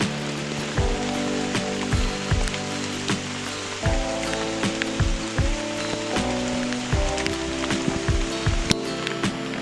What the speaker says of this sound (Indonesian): cuaca di siang hari ini hujan